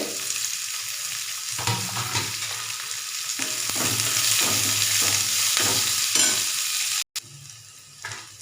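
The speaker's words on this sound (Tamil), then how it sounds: "ஒரே ஒரு பரமிளகா கொஞ்சம் கருவேப்பிலை எல்லாம் ஒன்றா போட்டு கிண்டிக்கலாங்க" Red chili and curry leaves crackle and sizzle as they are stir-fried in a pan for beetroot poriyal, with repeated stirring scrapes over a steady frying hiss, close up, ending in a brief cut.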